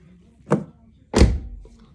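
A car door, freshly refitted after minor body work, shuts twice in quick succession: a light thunk and then a heavier, solid close, both near and clear, with no talk over them.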